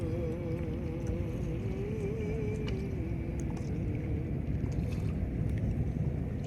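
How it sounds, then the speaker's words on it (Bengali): A large steel boat passes on the Meghna river near Meghna Bazar, Narsingdi, its engine a steady, loud, unbroken low drone with a faint wavering hum over rushing wind and water. "অনেক বড় স্টিল বোট যাচ্ছে, দেখতে পাচ্ছেন।"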